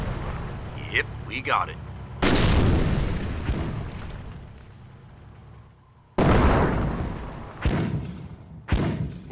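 Mortar shells from the World War II strategy game Company of Heroes slam down in two loud, broadband booms with rumbling decay, followed by a sharper blast near the end, with soldiers' voices calling out between impacts.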